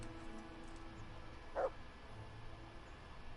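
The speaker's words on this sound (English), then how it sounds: "Let me find that dog." A single short dog bark from the stray mutt in the video game Kingdom Come: Deliverance, sounding once midway through over a quiet, steady ambient background.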